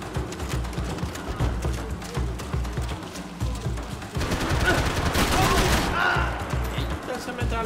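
Machine gun fire in a video game: rapid, continuous bursts of automatic shots rattling close and loud, intensifying in the second half, with a voice talking over the gunfire.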